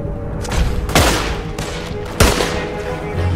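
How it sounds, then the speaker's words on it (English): Gunfire in Red Dead Redemption 2, with two sharp, loud shots about a second apart over a rumbling game backdrop and a few softer thuds in between. "That's good shooting right there."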